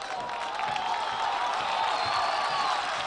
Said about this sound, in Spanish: ¿Por qué aplaude la gente, Florangi?